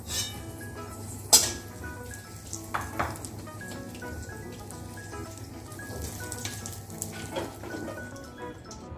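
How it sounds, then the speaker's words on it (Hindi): Hot oil spice tempering with asafoetida sizzles and crackles steadily as it is poured into dal, with a few clinks of a metal utensil against a pot; no one speaks. "अब मैं ये तड़का दाल में ऊपर से डाल दूँगी।"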